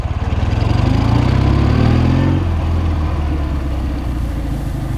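A 1973 Chang Jiang motorcycle with a heavy sidecar runs steadily and smoothly, a close, loud, even engine drone that rises in pitch through the first seconds and then settles into a constant hum.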